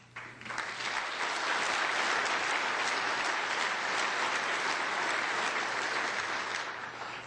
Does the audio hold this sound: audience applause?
yes